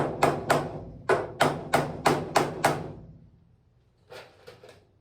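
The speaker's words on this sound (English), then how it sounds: "So I'll put some nails in and knock it together" Rapid hammer blows on nails while building a truck bed floor for a 1956 Chevrolet, about eight sharp evenly spaced knocks, then a pause and three lighter taps.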